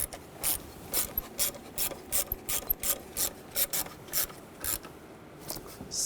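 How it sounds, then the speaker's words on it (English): A hand ratchet tightens a screw on an oil pressure switch in a 2011-2018 Volkswagen Jetta. It gives close, crisp, evenly spaced clicking bursts, roughly two per second, throughout with no voices. "I'll tighten this screw down."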